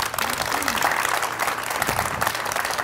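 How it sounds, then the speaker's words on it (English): A crowd applauds at a downtown ribbon-cutting ceremony in Lufkin, Texas. Steady, moderate clapping runs throughout, with a voice faintly audible underneath. "let's give another round of applause to the"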